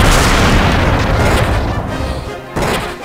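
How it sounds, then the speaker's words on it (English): Kaboom explosion spell from the PS2 video game Dragon Quest V, a loud, dense rumbling blast that sustains and fades, then a second burst near the end. "Gonna go ahead and use Kaboom on them."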